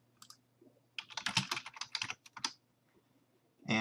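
Someone types on a computer keyboard, a quick burst of close, crisp key clicks lasting about a second and a half, then a pause before a few more keystrokes, with no talk.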